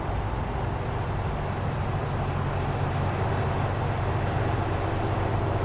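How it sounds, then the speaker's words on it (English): A truck in American Truck Simulator after its 1.59 update gives a steady low engine rumble with broadband road noise, holding at an even, fairly loud level throughout with no voices. "Listen to this truck come up."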